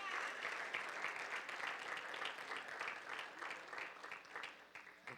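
Dense, steady applause from a congregation during a Spanish-language church sermon, a continuous wash of many hands clapping at moderate distance, with faint voices underneath.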